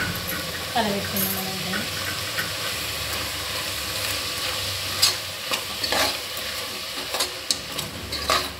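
Stirring a pan of ground coconut, garlic, onion and tomato paste for a potato and green pea curry, with a steady soft sizzle and scraping spoon strokes that sharpen near the end.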